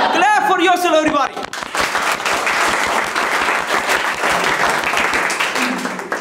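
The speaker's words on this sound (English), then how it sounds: "Clap for yourself, everybody." After a brief spoken moment, a room of students bursts into loud, sustained clapping for themselves during a public speaking session, dense and close, continuing to the end.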